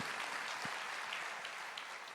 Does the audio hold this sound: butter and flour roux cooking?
no